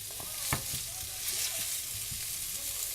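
Sausage browns in a pan as its fat renders, giving a steady broadband sizzle with a few sharp spatter pops and light scraping of a spatula, close and continuous with no talk.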